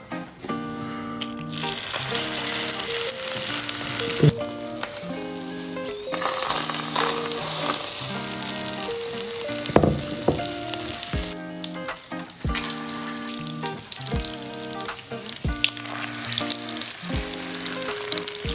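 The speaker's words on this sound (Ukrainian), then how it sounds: "Обжарюємо їх з кожної сторони по півтора хвилини" Sausages wrapped in lavash with cheese sizzle and fry steadily in a hot pan while bright music plays over it; no one speaks.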